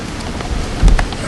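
Rain falls steadily in a bad thunderstorm, a continuous close hiss of drops with a brief low thump of thunder partway through.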